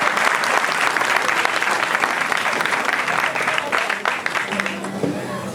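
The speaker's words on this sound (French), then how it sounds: "Est-ce qu'on peut l'applaudir," A live comedy audience beside the Congo River breaks into sustained, dense applause, many hands clapping loudly together before it thins and fades near the end.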